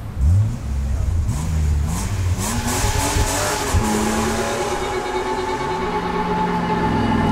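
A sports car, a Ferrari or Lamborghini, revs hard and drives off, the engine note climbing through repeated gear changes and holding a loud, steady roar close by.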